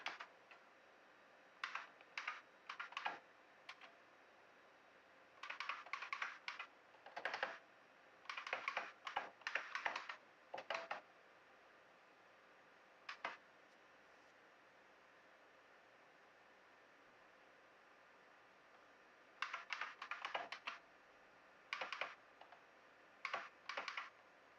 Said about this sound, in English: Pardon the typing, looking things up.